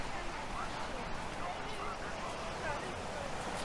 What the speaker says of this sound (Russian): Шум, вы слышите звук моря?